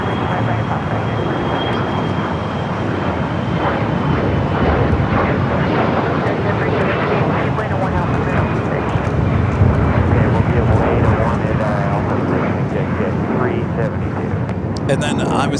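A jet airliner takes off from runway 25 right at Los Angeles International Airport, a steady loud roar that holds throughout with wind buffeting, while a radio voice talks under it.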